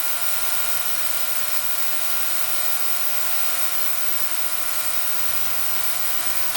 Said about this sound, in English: And now the compressor's kicked in just for good measure.